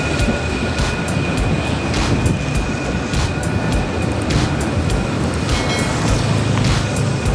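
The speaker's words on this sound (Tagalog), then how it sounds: "may train sila dito" A train in Rio de Janeiro, Brazil rumbles steadily nearby, with a continuous low roar of the cars on the rails, a faint high whine and occasional brief clanks and clicks, and no talking.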